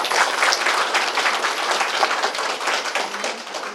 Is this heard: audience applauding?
yes